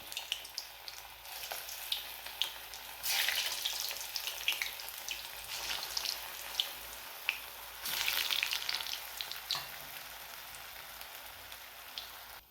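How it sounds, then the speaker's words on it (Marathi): Koftas deep-frying in oil over a medium gas flame give a steady, close sizzle with crackling spatters, swelling into two louder bursts of bubbling partway through, with no talking. "हे पण कोपते आपल्याला असं मीडियम गॅसवरती तळून घ्यायचे आहे"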